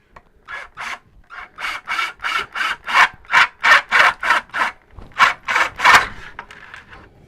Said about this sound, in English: all you have to do is just drill you a little hole